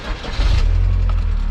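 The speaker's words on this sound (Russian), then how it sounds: "Вот сейчас запущу машину, посмотрим." A GAZelle 3302 van with a 405 engine cranks and catches, then settles into a loud, steady idle rumble close by.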